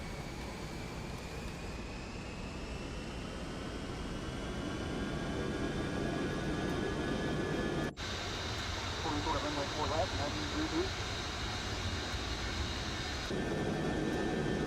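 A Boeing 707 with its four jet engines roaring steadily at takeoff power in Microsoft Flight Simulator 2024, a constant loud whine and rumble with a brief click partway through.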